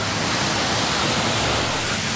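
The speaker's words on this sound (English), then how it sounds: "so a bit of white water" White water rushing down a stream in the Cumbrian woods near Colwith Force in the Lake District, a steady, loud, broadband roar that holds without a break.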